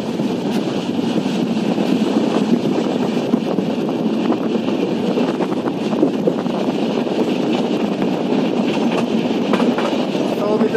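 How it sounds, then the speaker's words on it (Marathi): A train hauled by a green WD-4 diesel locomotive runs near Parbhani Junction, a loud steady rumble with continuous wheel clatter and rhythmic clicks over the rails for the whole stretch. "माझ्या पाठीमागे बघू शकता WD-4 इंजिन आहे हे खास करून ग्रीन इंजिन"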